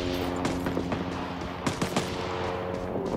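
Scattered gunfire in Rising Storm 2: Vietnam, a string of sharp rifle shots at moderate distance, some close and crisp, others softer, spread irregularly over a steady battlefield background.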